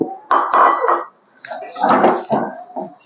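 Green chilli, curry leaf and onion paste being mixed into dough in a vessel, heard as a few close, loud bursts of squelchy, clattering mixing separated by short pauses.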